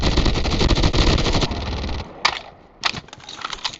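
Rapid automatic gunfire in the mobile shooter Call of Duty Mobile, battle royale mode: a dense, loud burst for about two seconds, then a few sharp, separate shots and short volleys.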